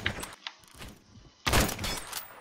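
Micro Uzi fire in Roblox Phantom Forces: a few light, quick pops, then a sudden loud burst of rapid automatic shots that trails off near the end.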